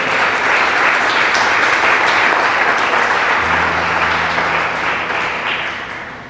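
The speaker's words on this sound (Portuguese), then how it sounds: "Aplauda o nome do Senhor" A church congregation claps loudly and steadily in dense applause, holding strong for several seconds before gradually tapering off, with a faint low hum entering partway through.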